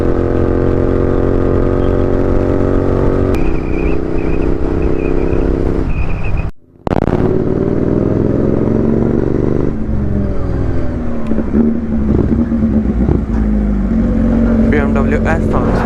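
A BMW S1000 sportbike engine runs loud and steady on a Sunday group ride with ZX-10R, Z900 and GT650 bikes, its tone shifting through gear changes, with a brief dropout in the middle.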